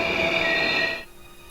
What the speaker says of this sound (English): Sparks fly as the train slams on its brakes.